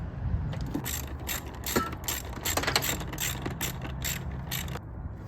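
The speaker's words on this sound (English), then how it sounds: "Go ahead and tighten up that hose clamp." Ratcheting clicks in quick bursts, moderately close and with no voice over them, as a hose clamp is tightened in the engine bay of a Lexus LS400 (Celsior) during a valve cover gasket job.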